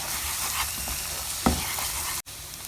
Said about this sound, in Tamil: இதை போட்டுட்டு ஒரு நிமிஷம் அப்படியே வதக்க போகிறேன்.